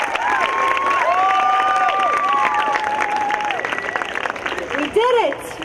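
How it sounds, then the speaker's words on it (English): Graduates at an international school's 2016 graduation ceremony applauding and cheering, sustained clapping under loud whoops and shouted voices from a large crowd. "I invite you to put your hands together and yet again give yourself a round of applause."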